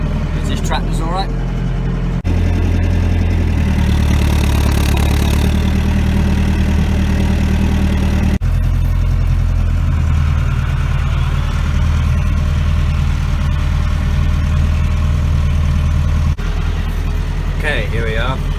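A Massey Ferguson 390 tractor engine runs close by during tine harrowing, idling with a steady low rumble that continues throughout, with a few brief shifts in tone.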